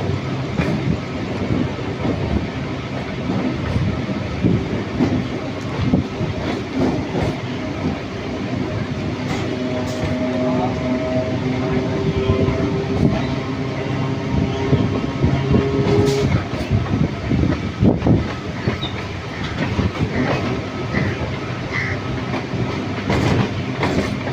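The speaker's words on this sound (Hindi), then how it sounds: "सामने से आ रहे हैं लोकल ट्रेन।" A Kolkata local passenger train rolls steadily past, wheels clicking and clattering over rail joints with a continuous rumbling drone throughout.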